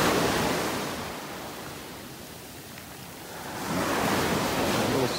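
Ocean waves wash steadily onto a beach in North Naples, Florida, a broad continuous surf roar that eases in the middle and swells louder again toward the end, with no voices.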